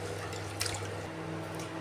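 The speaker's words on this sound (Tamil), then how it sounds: "இதை நாம் இப்போ நல்லா வாஷ் பண்ணி எடுத்துக்கலாம்" Raw rice and moong dal being washed in water: soft sloshing and dripping over a low steady hum, close and fairly quiet.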